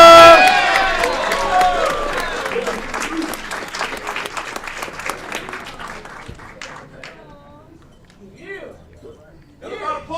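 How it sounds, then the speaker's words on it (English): Applause and cheering at an Aurora city council meeting: crisp clapping starts strong, then thins and fades over several seconds, and a few voices come through at the end. "Keep the applause going for"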